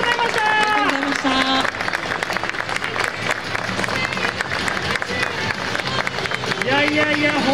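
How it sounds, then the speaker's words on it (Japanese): A crowd at a Toyota talk event applauds loudly and steadily throughout, with a presenter talking and cheering over the clapping. "大きな拍手をお送りください。"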